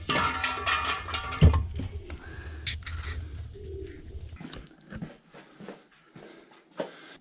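Pigeons coo on a farm, soft repeated calls mixed with scattered knocks, rustling and other farmyard noises, fairly close and moderate in level.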